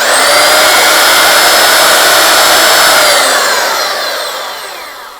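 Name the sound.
Makita M9400 belt sander sanding pallet wood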